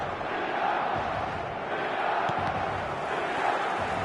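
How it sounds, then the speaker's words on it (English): Steady, distant stadium crowd murmur fills the background of an eFootball match between Barcelona and another side, a flat, even roar without any big surge. "the crowd have tried to spark some excitement, but to no avail"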